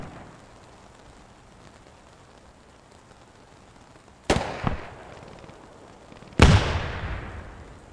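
Two heavy anti-tank mine blasts in the Post Scriptum war game, each a sudden loud boom with a long rumbling decay, the second stronger, set against quiet ambient game noise.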